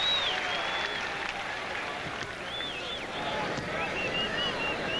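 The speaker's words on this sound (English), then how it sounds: "Gus will get a nice round of applause" Basketball arena crowd in a 1982 NBA playoff game applauding a substituted player, a moderate, steady roar of clapping with squeaking sneakers and broadcast commentary running over it.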